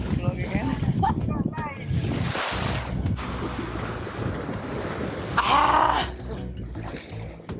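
Wind rushes and buffets the microphone aboard a sailing boat at sea, a steady blustery roar with sharper gusts near the start and end, while people are faintly heard in the background.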